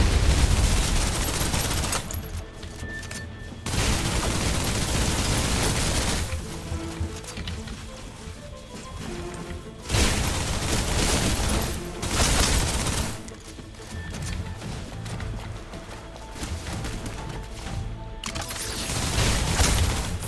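Suppressive gunfire from the video game Snowbreak: sustained, loud bursts of automatic shooting that come in several long volleys with short breaks, layered over game music and effects.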